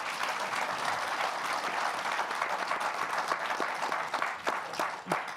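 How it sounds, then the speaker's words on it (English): Audience applause at a live-streamed discussion event, a dense, even patter of many hands clapping that holds steady from start to finish at moderate distance. "And applause."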